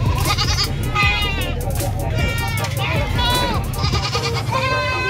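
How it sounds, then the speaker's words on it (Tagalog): Goats bleat repeatedly at the Malasiqui livestock market, several wavering calls overlapping near and far amid crowd hubbub and people talking in the background. "Isang truck na puro ng kambing."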